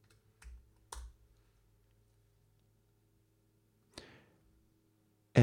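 A few isolated keystrokes on a computer keyboard while code is edited, sparse, crisp clicks separated by long quiet gaps, followed by a louder clack at the end.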